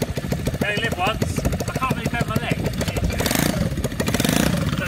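Engine of a 1973 Honda Mountain Bike motorcycle ridden around a farm, a loud, close, rough putter that rises into a revving surge, with people talking over it.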